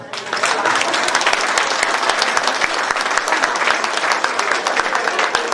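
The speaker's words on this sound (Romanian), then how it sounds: "Abia așteptam să-i aplaudați." A large audience at the inauguration of a village cultural hall claps steadily throughout, dense and sustained applause without pause.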